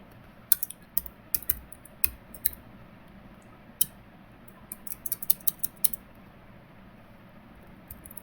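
Python Tkinter code being typed on a computer keyboard: close, irregular bursts of crisp key clicks with short pauses between runs, no voices.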